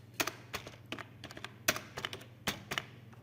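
Keys on a computer keyboard are tapped in quick, uneven bursts while a number is entered, crisp close clicks over a faint steady hum.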